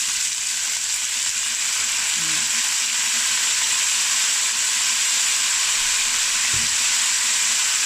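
Beef brisket sizzles steadily in a hot pan with tomato and carrot, a continuous loud frying hiss with a couple of faint scrapes of the spoon as it is stirred.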